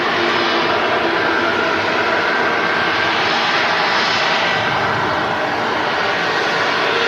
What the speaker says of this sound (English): slowly slowing the aircraft down to get off at the rapid exit taxiway